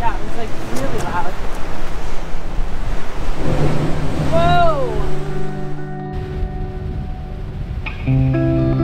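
Big ocean waves surge and wash at an easternmost coastal point, a steady roaring rush with wind buffeting the microphone, while people talk over the surf.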